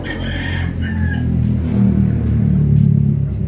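A rooster crows in a couple of bursts early on, over a loud, steady low rumble like an engine running close by.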